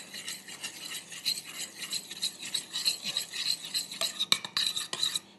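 A utensil stirs gelatin into hot almond milk in a bowl, a close, continuous scraping swirl with a faint high ringing and a few sharper clinks near the end.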